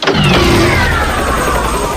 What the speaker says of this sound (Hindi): ये ऑटो स्टार्ट है।